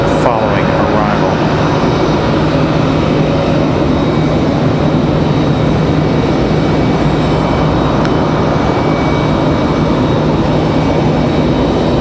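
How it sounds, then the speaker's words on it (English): A Bombardier Challenger 350 business jet arriving at Raleigh-Durham airport gives a loud, steady engine roar with a sustained drone, close and continuous throughout, with voices talking over it. "Bombardier Challenger 350 there for that following arrival."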